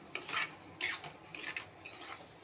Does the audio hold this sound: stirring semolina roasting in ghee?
yes